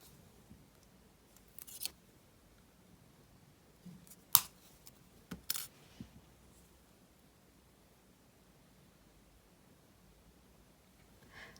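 Snips of scissors or cutters trimming jewellery wire short while making a wire-wrapped pendant, a few quiet clicks and cuts scattered through near-silence.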